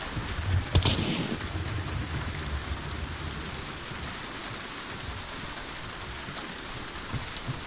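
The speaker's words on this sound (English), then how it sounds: "this rain is fucking crazy" Heavy rain pours steadily in a video game, a dense hiss of drops that opens with a short sharp crack and runs on at an even level without talk.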